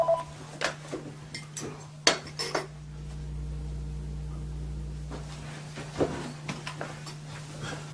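Telephone dialing tones play as a number is keyed in on a phone, a run of short separate beeps with one longer tone held in the middle, set against clinking cutlery and dish clatter.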